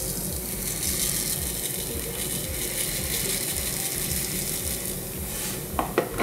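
Continuous crackling sizzle of slime with styrofoam balls, sounding like food frying in a pan, steady and fairly loud throughout, with a few brief clicks near the end.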